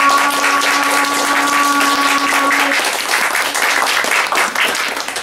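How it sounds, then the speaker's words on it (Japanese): An audience at a Saxy Tones Christmas live concert applauds two ad-lib performers with steady, dense clapping that holds for the whole stretch. A sustained instrumental tone lingers under the first half, then fades out. "もう一度アドリブをしたお二人に大きな拍手をお願いします"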